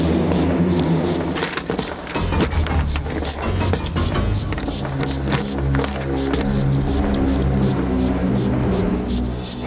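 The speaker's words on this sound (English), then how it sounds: "There's too much traffic noise." Continuous street traffic noise in a city, a dense broadband roar with low rumble from passing vehicles, steady and fairly loud throughout with no voices.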